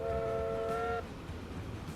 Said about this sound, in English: Whistles galore.